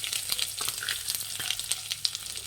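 Mustard seeds, cumin, curry leaves, urad dal and chana dal fry in hot oil over a low flame, with steady sizzling and rapid crackling pops and spatters up close.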